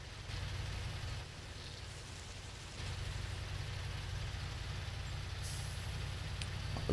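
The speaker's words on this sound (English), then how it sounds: "this truck is struggling up this hill" A heavy truck engine strains up a steep hill in Spintires, a steady low drone that holds throughout with a brief rise in load partway and no talk over it.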